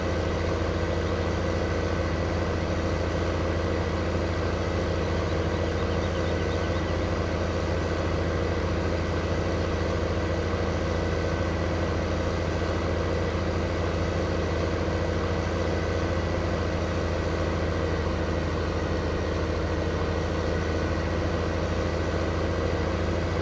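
A T8 330 tractor fitted with dual wheels in Farming Simulator 15 runs its engine at a steady idle, a constant low droning rumble that holds unchanged throughout with no talk.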